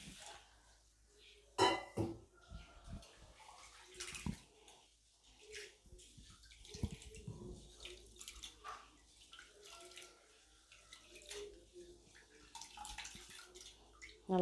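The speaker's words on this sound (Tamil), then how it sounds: "இப்போ இன்னொரு முறை கழுவிக்கலாம்." Rice being washed by hand in a pot of water for a second rinse while cooking rice in a pressure cooker: intermittent sloshing, swishing and light clinks of grains and vessel, fairly faint and close, with no talking.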